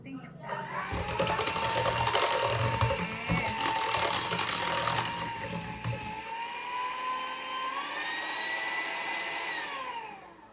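Electric mixer beating cheddar cheese dough at low speed, a whirring motor with rattling beaters that grows louder, then settles to a softer hum, while a person talks over it.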